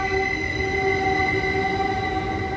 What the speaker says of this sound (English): A local train going to San Jose.